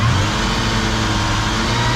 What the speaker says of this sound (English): So let's rev her up and see if she holds.